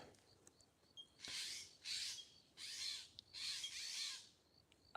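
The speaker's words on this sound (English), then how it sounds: "I was letting it be quiet so we could hear, but the birds is around." Crows caw outdoors in a natural setting, four loud harsh bursts in a row, each lasting about half a second, over quiet background with a few faint chirps.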